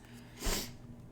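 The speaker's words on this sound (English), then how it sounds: "Confirmation sneezes." A single short, breathy burst like a sneeze or snort, close and fairly quiet, with faint background hum.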